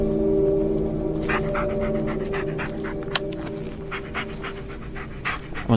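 A dog pants steadily in the Blair Witch video game, rapid breathy huffs that run on in a regular rhythm over a low droning ambient hum, close and fairly loud, with no talk over it.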